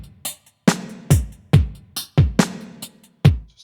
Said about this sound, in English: then into that I added a clap being played in the ESX24